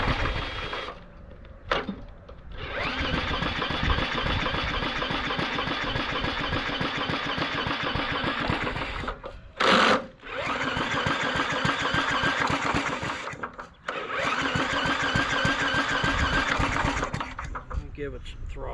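An old engine cranks, catches and runs roughly near the microphone, surging as throttle is applied, with a couple of brief dropouts before it picks up again; someone talks over it.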